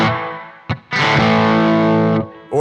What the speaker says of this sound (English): if I go to the bridge pickup here, I can get kind of a telly sound